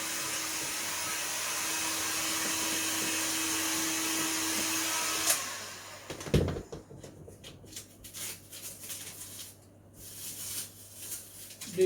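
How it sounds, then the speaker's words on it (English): A heat gun flashes off paint with a steady, even blowing roar for about five seconds. It then cuts off, leaving faint clatter and handling noises. "flash it off the heat gun"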